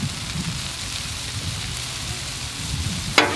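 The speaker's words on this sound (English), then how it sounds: "the griddle is super hot now. It's time to get our steak down." Steak searing on a hot Blackstone griddle in leftover sausage and bacon grease, a steady soft crackling hiss throughout with a brief sharper sizzle burst near the end.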